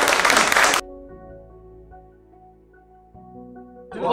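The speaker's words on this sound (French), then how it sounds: "on peut l'applaudir là" A crowd applauds at a rugby-related event in France: a dense burst of clapping, then a lull with sustained musical tones, and the clapping swells again at the end.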